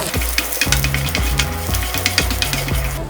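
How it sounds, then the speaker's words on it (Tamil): Garlic, ginger, fennel and pepper are dry roasted in a pan, with a spoon scraping and stirring in regular strokes over a light, steady crackle, close up with no talk. "இது எல்லாத்தையுமே கொஞ்சம் நல்லா வாசனை வர அளவுக்கு வறுத்துக்கலாம்."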